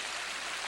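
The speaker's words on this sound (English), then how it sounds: "Beautiful little stream here." Small mountain stream on a hiking trail near South Fork Creek, crossed by a hewn log bridge, rushing and splashing in a steady, continuous broadband wash close by, with no voices over it.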